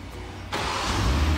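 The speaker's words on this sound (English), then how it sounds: "And the car starts up for you." A 2020 BMW X7 fires up by remote start: near-quiet, then a sudden crank into a steady, close engine idle that holds to the end.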